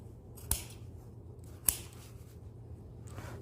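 Two crisp scissor snips cut V-shaped notches into fabric for a short trench coat, isolated sharp clicks about a second apart over a quiet room hum, with a faint third snip at the end.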